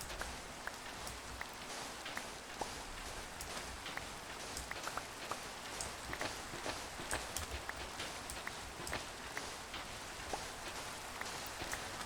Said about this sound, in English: Not a terrible way to spend a little rainy day on this Minecraft server.